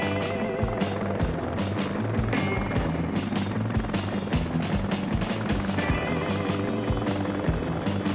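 Helicopter in the combat flight game Heliborne, a steady loud rotor thrum with a continuous beating chop and engine whine running throughout, no voices.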